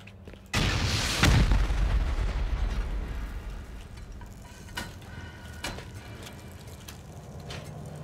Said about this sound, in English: I'm gonna go ahead and start sending some incendiary rockets